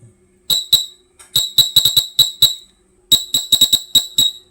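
A homemade 24-volt e-bike horn triggered through a relay gives a rapid series of short, loud, shrill electronic beeps in irregular bursts with silent gaps between them.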